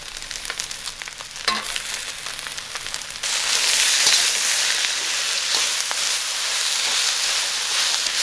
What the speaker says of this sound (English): We're gonna add the frozen peas now.